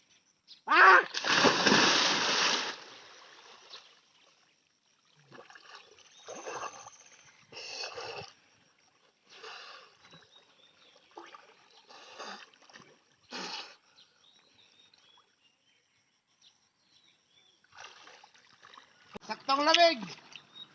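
Water splashes in a stream-fed irrigation channel, with a big splash near the start and another burst near the end, plus scattered smaller splashes and people talking in between.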